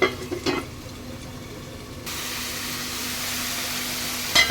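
Masala for a papaya and potato dum sizzles and fries in a pan, first with brief stirring scrapes, then a steady close hiss of frying that continues to the end, with no talking.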